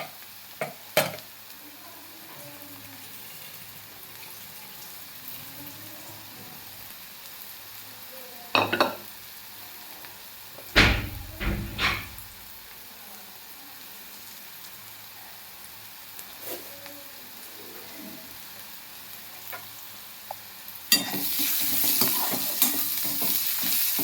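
Onions frying in a pan for a spicy fresh soybean pod usal, with occasional spoon scrapes and clatters over a low sizzle that swells into a louder, dense hiss near the end.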